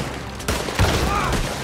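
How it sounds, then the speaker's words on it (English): A shotgun fired in the Western video game Red Dead Redemption 2, with one or two loud, close booming blasts and a rumbling tail, heard alone without speech. "This dude uses a shotgun."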